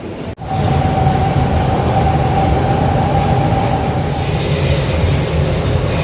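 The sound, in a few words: bus ride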